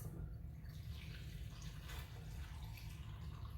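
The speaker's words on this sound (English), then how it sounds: "I'm gonna shake it up and then I'm gonna pour it right into my hurricane glass" A shaken rum cocktail poured over ice into a hurricane glass: a steady, close liquid splash and trickle lasting the whole moment, with no voices.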